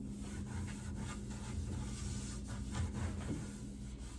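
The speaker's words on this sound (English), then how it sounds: "I'm going to go ahead and scuff sand the whole piece with 180, wipe off the dust" Hand scuff sanding of a wooden furniture piece with 180 grit sandpaper gives a close, steady scratching rub that repeats in short strokes for several seconds, with no voices.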